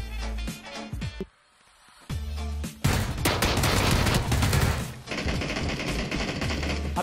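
Bursts of gunfire in PUBG, loud rapid shots in dense volleys, a brief near-silent gap, then sustained automatic fire with reverberant echo.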